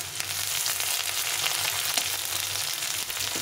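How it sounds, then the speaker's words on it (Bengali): Garlic and onion frying in a pan give a steady, close sizzle and crackle throughout, with no talking. "রসুন পেঁয়াজটাকে ভালো করে একটু ভেজে নিতে হবে।"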